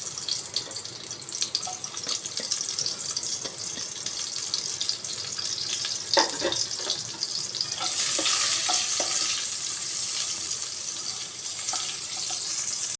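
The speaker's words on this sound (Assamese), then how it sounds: "অকণমান তেলত ভাজি ল'ম।" Chopped onions fry in a little oil in a pan, a continuous sizzling hiss with scattered crackles and a few scraping stirs, growing louder and brighter partway through.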